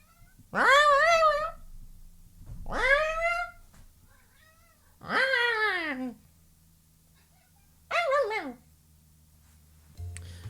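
A cat meowing in four drawn-out, wavering calls spaced a few seconds apart, close and fairly loud, in an otherwise quiet room.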